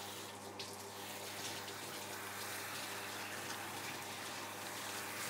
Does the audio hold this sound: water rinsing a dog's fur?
yes